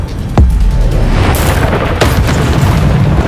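Confringo blasting spell in Hogwarts Legacy, a loud booming explosion with a sharp initial blast followed by a second burst and rumbling debris, very close and dominant.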